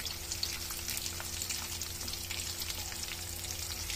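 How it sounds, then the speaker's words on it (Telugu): Asafoetida tempering sizzles steadily in hot oil with green chillies and curry leaves, a close, continuous crackling fry with no voices. "ఇప్పుడు ఇంగువ వేసుకుంటున్నానండి కొద్దిగా"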